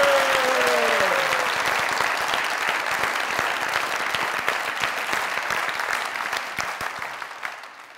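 Studio audience applause on a comedy show, a dense and steady wash of clapping with a short vocal line at the start, holding strong before fading out toward the end.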